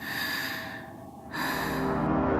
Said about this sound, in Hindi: उसने हांफते हुए उसकी कॉल रिसीव की।